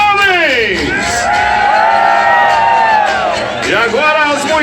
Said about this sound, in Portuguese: Agora é só o grito dos homens!